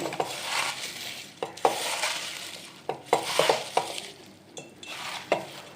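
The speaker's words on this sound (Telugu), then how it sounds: "వేసుకుని మొత్తం అంతా కూడా చేతితో కలుపుకోవాలి" Puffed rice is tossed and mixed by hand with lemon juice in a bowl, giving soft rustling crunches with a few sharp knocks against the bowl, close and fairly quiet, with no talking.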